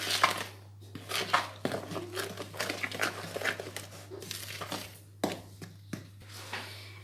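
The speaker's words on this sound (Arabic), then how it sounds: "وابتدي ان انا اخلط كده واعجن" Date biscuit dough with baking powder and salt being mixed and kneaded by hand in a bowl: close, irregular soft crinkling, dull thumps and light scraping over a steady low hum, with no talking.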